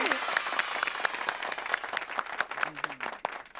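A children's studio audience claps in a brief burst of applause, distinct hand claps rising and falling while voices talk over it.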